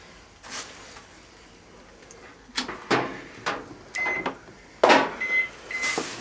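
A microwave oven runs with cheap party lights inside, giving intermittent clicks, crackles and short buzzing bursts that grow louder and more frequent toward the end, with no talk.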